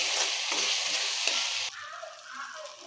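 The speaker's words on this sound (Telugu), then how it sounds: "కలపండి బాగా." Fish curry with ginger-garlic paste and turmeric being stirred in a pan, a bright sizzle with scraping strokes that drops abruptly to a quieter simmer partway through, close and without talk.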